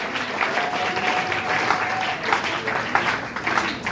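A church congregation at a closing worship service in Pointe-Noire, Congo, claps and applauds steadily and loudly throughout, a sustained crowd ovation with voices mixed into the clapping.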